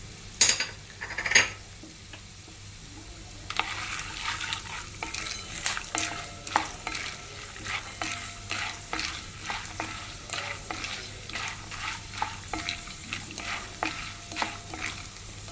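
Roasted gram dal is stirred and fried over medium heat in a pan for a poha mixture, with a faint sizzle beneath a steady rhythm of scraping spoon strokes and light clinks against the pan.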